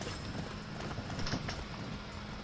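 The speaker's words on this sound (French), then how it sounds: "le cheval va plus vite que les titans en théorie" A horse gallops in the Attack on Titan Wings of Freedom video game, its quick rhythmic hoofbeats clopping steadily at low level over a faint background hum.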